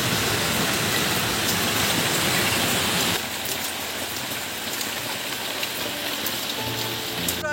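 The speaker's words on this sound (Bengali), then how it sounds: "এত জোরে বৃষ্টি এসছে আর আকাশ ডাকছে, বাজ পড়ছে" Heavy rain pours in a stormy downpour, a dense, loud, steady roar that eases slightly partway through and continues alone without voices.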